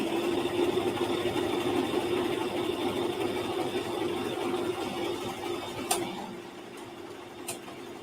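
Sewing machine stitching shorts fabric, a steady close mechanical whir running evenly, then briefly pausing with a couple of clicks as it switches to back stitching.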